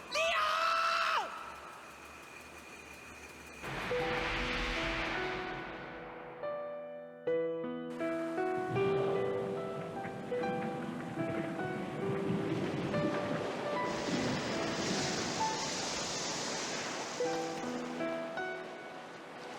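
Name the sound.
rushing floodwater filling a room, from the video game Tales of Destiny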